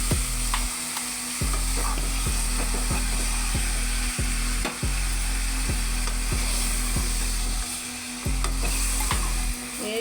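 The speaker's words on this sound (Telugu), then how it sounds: "ఈ కలుపుకున్న మటన్ ఏమో ఇలా వేసుకుంటున్నా" Mixed mutton frying in a pan sizzles loudly and continuously while repeated scraping stir strokes land every second or so, close and clear, with no voices.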